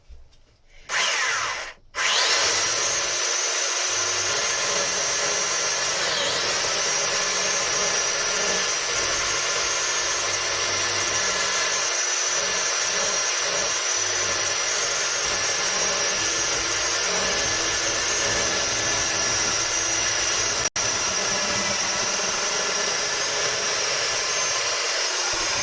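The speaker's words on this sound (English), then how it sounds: "bar just channeling out this edge with the belt sander really" Belt sander channeling out the edge of a resin- and filler-coated wooden workpiece, a loud, steady high-pitched whine with abrasive rubbing that runs continuously after a brief start, close by and without talk.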